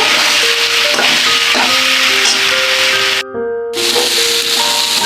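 Soybean chunks and potatoes frying in a pan give a loud, steady hiss and sizzle that runs throughout, with a brief dip near the end and faint music in the background.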